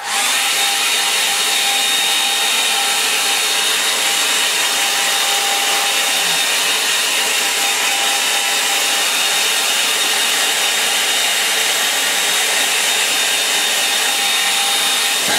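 A hair dryer blows hot air over a watercolour line-and-wash coastal painting, giving a steady, loud whirring hiss that holds an even pitch, close and unbroken for the whole stretch.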